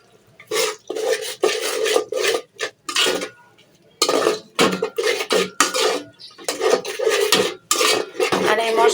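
A spatula scrapes in repeated rhythmic bursts as spices, including bay leaf, cardamom, cinnamon and salt, are stir-fried in a pan for a country chicken and potato curry. The close metallic scraping comes in short strokes with brief pauses.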